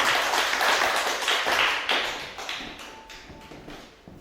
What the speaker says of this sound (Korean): 우리 목사님 나오실 때 큰 박수로 환영하도록 하겠습니다.